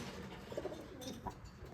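Jacobin pigeons, a fancy show breed, kept at a home in Mumbai, give a few soft, low coos that sit faintly under steady background noise.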